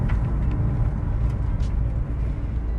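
Toyota Supra engine heard from inside the car while driving, a low, steady, close rumble of road and motor noise with no one talking.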